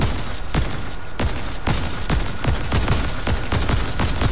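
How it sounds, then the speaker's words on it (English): Fortnite gunfire, with rapid sharp shots in quick succession, about ten loud bursts in a fast irregular rhythm over several seconds, close and punchy. "Another gunfire!"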